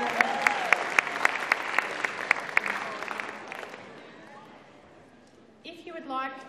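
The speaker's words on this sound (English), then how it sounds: "so a big round of applause for our staff and family" Audience applause for school staff at a talent show, a smattering of sharp individual claps over a thinner crowd of clapping that dies away, followed by a voice beginning to speak.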